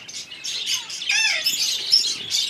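Exhibition-bred male budgerigars, big-size Hagoromo type, chirping and squawking in a busy run of bright, close calls that carries through the whole stretch with no talking.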